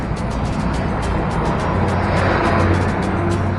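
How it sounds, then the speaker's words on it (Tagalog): Heavy road traffic rumbles steadily nearby as cars pass continuously, a loud, constant wash of engine and tire noise along a busy street. "So, talagang napaka-traffic talaga dito"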